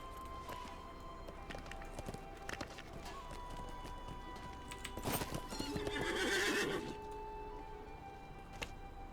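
Rapid hoofbeats of a horse clatter steadily over background music in the video game The Lord of the Rings Online, with a whinny rising near the middle.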